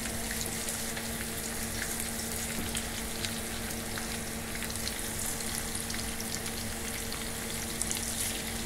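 An omelette (torta) frying in a pan, a steady close sizzle with a constant crackling hiss and a faint hum underneath, no voices.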